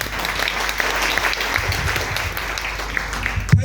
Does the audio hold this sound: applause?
yes